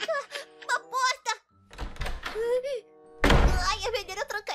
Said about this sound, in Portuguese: Por que você trancou a porta?